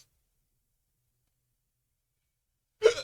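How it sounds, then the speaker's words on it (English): After nearly three seconds of silence, a single short, sharp hiccup comes from a drunk person. "hiccups."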